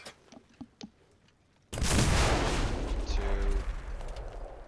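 A single loud anti-tank rifle shot at a T-34 1941 tank in a video game, a sharp heavy crack followed by a long rumbling tail, after a few quieter taps.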